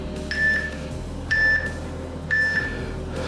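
Three evenly spaced short electronic beeps from a workout interval timer, each about a second apart, ringing clear and fairly loud over a low room hum.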